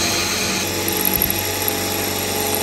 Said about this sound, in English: They are my four holes screwed in, or drilled in, sorry